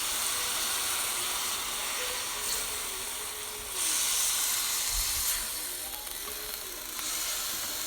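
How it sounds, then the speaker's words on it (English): Steam hisses steadily from a pot of callaloo and ackee with mixed squash as it is stirred, a close, continuous broadband hiss that swells briefly a couple of times. "Get all that steam, baby."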